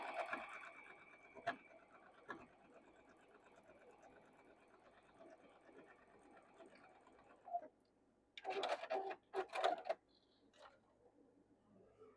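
A sewing machine stitches a quilt seam, running quietly and steadily with faint ticking, broken by a few louder clunks and rustles near the end.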